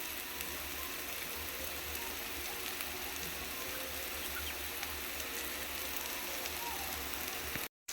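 Chickpea sundal sautéing in a pan with onion and chilli, a steady, soft crackling sizzle running evenly throughout, fairly faint and continuous, ending with a brief silent cut.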